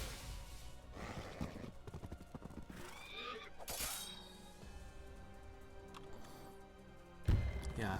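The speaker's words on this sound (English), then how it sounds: "Horse and rider taken down in an instant." Horse neighs amid the clatter of a horse and rider falling in the Wargroove strategy game, a whinny with clanks and crashing game effects over steady background music.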